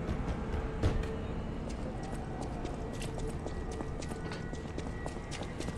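A donkey's hooves clip-clop in the video game Lies of P, a steady run of crisp knocks at a low, even level with no talk over them.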